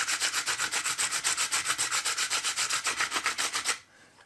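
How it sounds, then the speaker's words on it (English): Coarse sandpaper rubbed over a paramotor propeller in quick, even back-and-forth strokes, a rhythmic scratchy rasp repeated about twenty times close up before stopping abruptly. "Using some coarse sandpaper, just gently start to take the rough off it."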